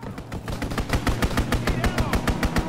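Rapid strafing-run gunfire from an aircraft in the World War II shooter Call of Duty WW2, a fast, evenly spaced burst of loud sharp shots that keeps going for several seconds.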